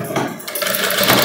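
A sewing machine stitching the seams of a long gown, with a steady close mechanical whir that runs unbroken through the whole short burst.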